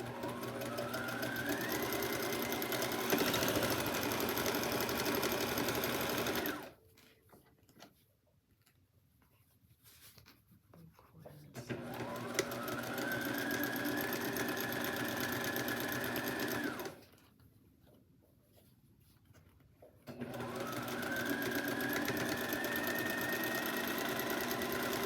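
Sewing machine stitching a full quarter-inch quilt seam with a flange strip, a steady close whir that speeds up, pauses for two quiet gaps, then runs again.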